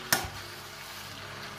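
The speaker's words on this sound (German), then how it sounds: "So, jetzt ein bisschen umrühren mal, kurz." A sharp clank of a utensil against a pan as red cabbage dip is stirred, followed by a steady low sizzle of frying.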